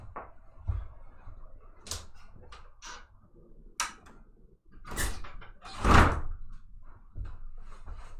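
A door is pushed shut indoors in a string of scattered knocks and scrapes, ending in a louder thud and rattle near the end, with quiet handling noise in between.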